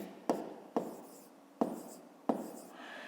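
Pen or chalk writing out a math exercise, heard as four sharp, separate strokes with short scratchy tails, close up and fairly quiet, with no voices.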